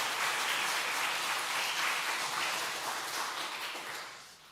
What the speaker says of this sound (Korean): 저기 박수 한번 해주시길 바랍니다.